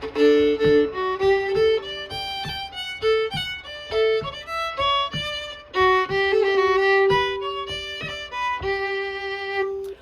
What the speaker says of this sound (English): if I play it and I really stretch that roll out to make it almost like this